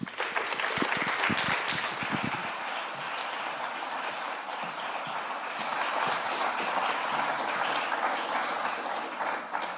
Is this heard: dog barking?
no